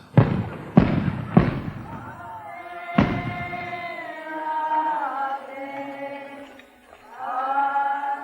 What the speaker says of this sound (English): And rockets announce it's all over.